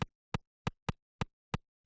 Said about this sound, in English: In the noise, we then add this kick, just add a little bit of punch.